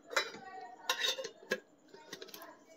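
Metal tiffin box being handled and packed, with clinking lids and containers in a few sharp bursts of metallic clatter, close by, between quieter handling noises.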